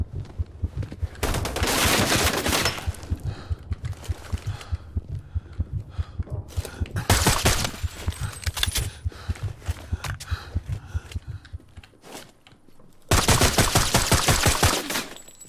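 Gunfire from a pistol and an assault rifle rattles through a Sniper Ghost Warrior 3 firefight: rapid repeated shots in dense bursts with short gaps, loud and close throughout.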